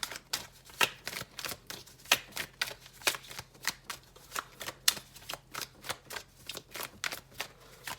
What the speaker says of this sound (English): usually the cards in this deck like to flip over while I'm shuffling